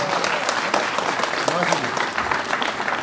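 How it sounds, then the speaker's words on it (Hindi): Hearty applause fills a hall at a felicitation ceremony for NEET achievers at Rightway Career Institute in Srinagar, continuous and close, with voices faintly mixed beneath. "इनके लिए भरपूर तालियां हो जाए बाबा साहब के लिए"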